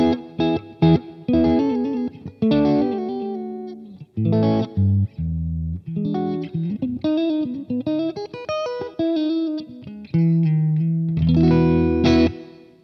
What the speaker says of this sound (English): the delay repeats out of the way of your actual playing